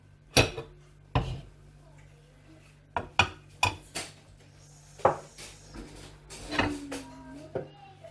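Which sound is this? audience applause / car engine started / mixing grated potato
mixing grated potato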